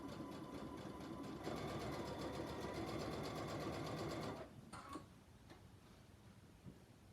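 A domestic sewing machine stitching a quarter-inch seam on fabric, running as a fast, even mechanical rattle for about four seconds, then stopping with a few softer clicks and handling noises.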